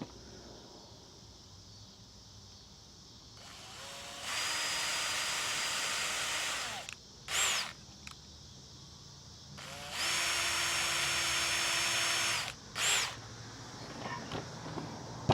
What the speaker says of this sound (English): So I'm going to drill in just a little bit just to start them.